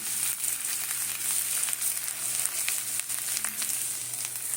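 Mango pickle heating in hot oil: a continuous, loud, close sizzle with scattered crackles and pops throughout, no voices.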